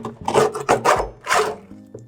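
Grip tape being cut for a custom Hella Grip scooter build, heard as several short, rough rasping strokes up close, fairly loud and rhythmic, with brief pauses between cuts and no talking.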